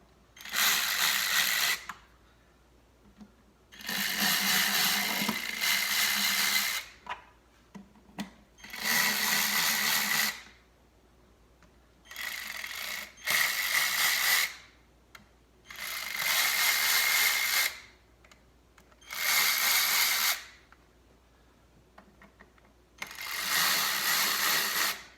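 Valve cover bolts on a 1997 Saturn SC2 being threaded in by hand with a ratchet, a series of repeated clicking bursts of several seconds each, close and distinct, separated by short quiet pauses.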